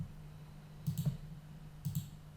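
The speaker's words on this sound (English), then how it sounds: "Let's type in search" A search term is typed on a computer keyboard while working in Blender, heard as two quick, quiet bursts of keystroke clicks against a low background hum.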